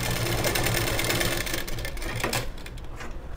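A sewing machine stitching a blouse sleeve runs in a fast, even mechanical whir close by, slowing and thinning out toward the end with no voices.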